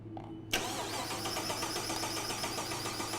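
A car engine cranks briefly and then catches, settling into a steady mid-pitched idle. The fuel pump fuse has been pulled and the battery is weak. The start comes with a sharp onset, and there is no talk.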